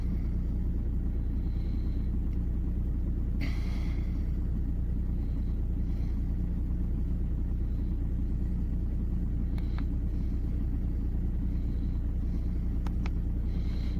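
A cold car engine idles steadily with a low, continuous rumble, its revs wavering slightly up and down, heard close with a few faint clicks and ticks over the top and no voices.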